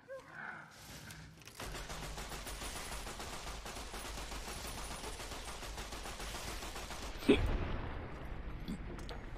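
Rapid automatic fire from a larger gun in Fallout: New Vegas, a sustained rattling burst lasting several seconds with a sharper loud crack near the end, mostly without talk.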